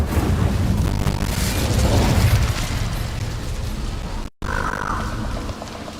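The Incendio fire spell cast in Hogwarts Legacy bursts out as a loud, rumbling roar of flame with booming crackles, fading after a few seconds, then a brief cut and a softer magical shimmer.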